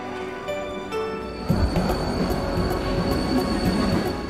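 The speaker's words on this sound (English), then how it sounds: "Here at the station, one of 6 cave trains is awaiting its passengers." A cave train stands at the station in Postojna Cave, humming steadily, then gives a louder mechanical clunk and breaks into continuous rumbling with faint rail squeal and a high tonal whine.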